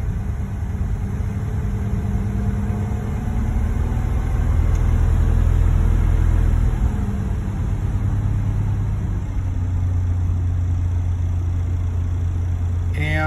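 A 1950 Chevrolet engine runs steadily after a choke start, with a loud, close, low rumbling idle that swells slightly in the middle and then settles, with no speech.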